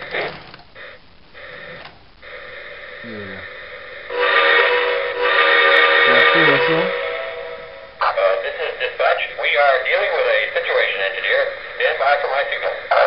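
A model train hums and whirs at moderate volume, with horn-like tones and rising mechanical buzzing over several seconds, and a brief voice early on.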